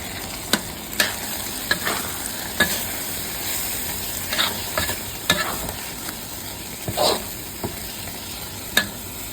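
Chicken stir-fried with southern Thai curry paste and pickled bamboo shoots: a steady sizzle in the pan, broken by sharp scraping clacks of the spatula, near and fairly loud.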